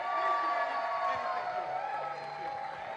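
At a political rally, a crowd breaks into applause with cheers and whoops, a dense, steady burst of clapping and voices that fades slightly toward the end.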